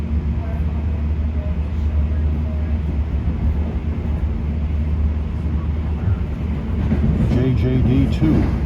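Long Island Rail Road train running toward Speonk, heard from inside as a steady low rumble and rattle of the carriage, continuous and close, with a voice talking over it late in the clip.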